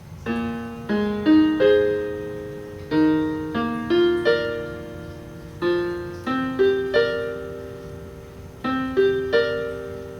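A piano plays a repeating melodic phrase of sustained notes and chords, each struck and left ringing, at a moderate, even pace.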